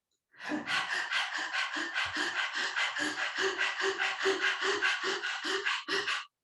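Rapid, rhythmic panting breaths in a steady fast train, about four per second, close and loud, made by a person imitating a panting dog.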